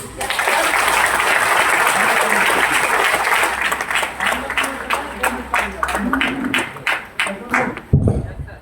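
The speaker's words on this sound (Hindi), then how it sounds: "बजाओ तालियां" An audience applauding at a direct-selling training seminar: dense, loud applause fills the hall at first, then breaks into separate rhythmic claps, with voices heard through it.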